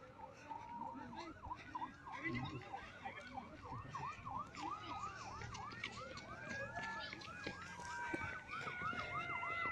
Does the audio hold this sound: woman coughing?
no